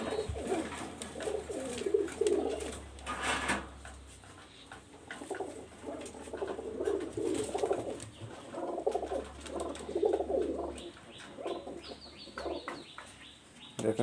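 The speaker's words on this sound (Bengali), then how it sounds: "এটা কিন্তু টাইগার ডাব কামাগার কবুতর" A male Tiger Dove Kamagar pigeon coos in repeated low, throaty rolling phrases, close by and moderately quiet, with a few scattered clicks and other bird noises around it.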